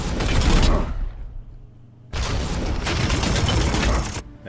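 Heavy support-fire barrage in the video game Warhammer 40k: Chaos Gate Daemonhunters, two loud bursts of booming gunfire and explosions separated by a brief lull, alone with no talk.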